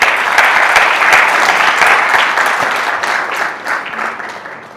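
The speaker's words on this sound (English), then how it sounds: "Can you give yourself now a big round of applause?" An audience at a women's leadership awards ceremony gives a loud, full round of applause, thick and continuous before thinning and tapering off toward the end, with no talk over it.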